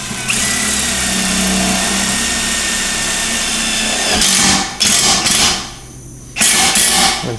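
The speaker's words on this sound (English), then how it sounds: "We'll find a good spot to drill that down" An impact driver with a 5/16 driver bit runs up loud and close, driving hardware into the bar of an ArmorTech game loader on a CF Moto U10 Pro 1000, in a sustained whir that stops and restarts twice.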